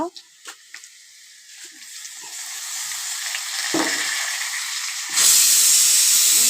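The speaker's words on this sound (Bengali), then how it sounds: "প্রেশারে একটু হালকা ডাল বসিয়েছি হ্যাঁ, একটা সিটি দিয়ে নামিয়ে দেব" Dal cooks in a pressure cooker on the stove with a soft hiss that slowly builds, broken by a few light clatters, then bursts into a loud, steady rush of escaping steam.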